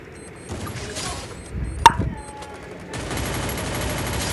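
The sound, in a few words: gunfire from Free Fire video game, running headshot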